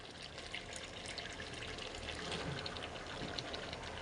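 Washed eggplant pieces go into a pan of frying potatoes, giving a steady, dense sizzle that hisses on evenly throughout at moderate volume.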